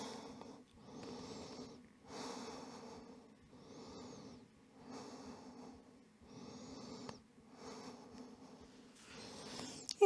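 Slow, rhythmic breathing held in yoga child's pose, about six soft breaths with airy inhales and exhales, close and quiet with no talking.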